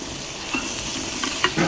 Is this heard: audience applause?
no